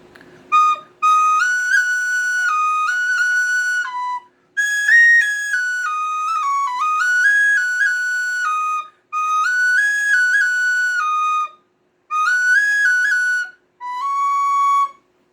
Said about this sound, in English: You can actually use the second octave on the whistle.